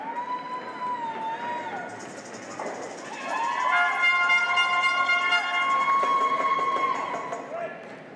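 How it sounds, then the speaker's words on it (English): A Scottish crowd at a junior curling world championship match against Canada cheers and shouts, swelling into a loud, sustained roar of voices and whistles after a quieter start with sliding stone and rink noise. "Scottish crowd making lots of noise, like always"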